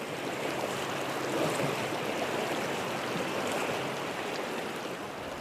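A swift-flowing tributary north of the Yangtze river rushes in a steady, dense wash of water, with no voices, loud and close throughout.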